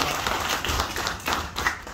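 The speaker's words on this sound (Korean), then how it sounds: "박수 한번 해주시기 바랍니다." An audience at a Sunday dharma service in a Korean Buddhist temple claps together in a steady, dense burst of applause that lasts about two seconds.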